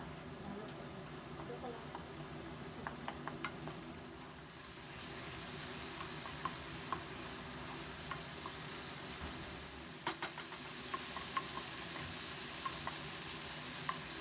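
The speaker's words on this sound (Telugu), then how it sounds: "బాగా కలిపి మనకు ఆయిల్ అంతా పైకి వచ్చి గ్రేవీ బాగా ఫ్రై అవ్వాలి" Fish biryani gravy with green chillies sizzles and fries steadily in oil in a pan, with intermittent scraping stirs throughout and a brief louder clatter near the middle.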